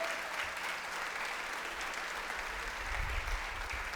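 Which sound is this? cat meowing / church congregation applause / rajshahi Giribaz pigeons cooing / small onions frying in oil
church congregation applause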